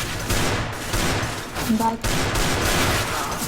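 Rapid bursts of gunfire in the game Counter-Strike, loud repeated automatic shots in quick clusters with brief gaps, and a voice briefly heard among them.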